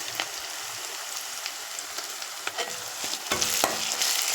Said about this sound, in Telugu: ఇప్పుడు ఇందులో కొంచెం ఉల్లిపాయ పేస్ట్ వేసుకుందాం